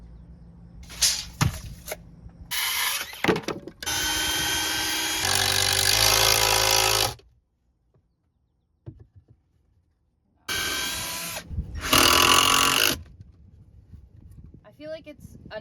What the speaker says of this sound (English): I went over and cut up a piece of plywood over here